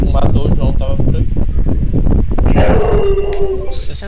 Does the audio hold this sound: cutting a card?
no